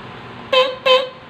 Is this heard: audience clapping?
no